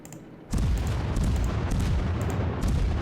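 Main guns of the Japanese cruiser Mogami firing in World of Warships: after a quiet lead-in, a sudden loud boom opens a sustained rumbling roar, with a few sharper cracks on top.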